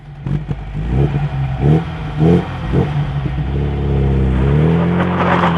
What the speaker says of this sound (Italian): è un rombo caratteristico, il rombo del Galbero Alfa Romeo